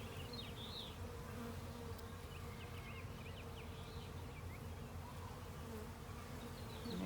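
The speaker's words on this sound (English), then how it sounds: "You can see they're all buzzing around." Honeybees buzzing around a hive during a transfer into a new hive, a dense, continuous, close swarm drone with no talk.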